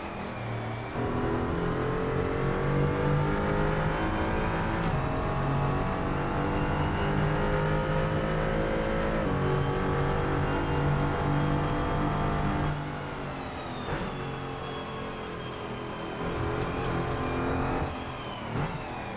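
A race car engine in the Assetto Corsa driving game on the Corso track holds a loud, steady high-revving drone for the whole stretch, with pitch drops at gear shifts and a brief lift near the end, and no voices.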